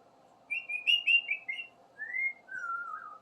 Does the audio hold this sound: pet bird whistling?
yes